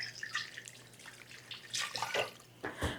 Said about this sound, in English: Wash my sticky hands because they're sticky.